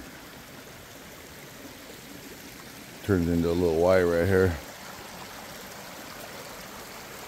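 Steady rushing flow of a creek beside a forest hiking trail near a campground, a continuous soft wash heard throughout, with someone briefly speaking over it midway.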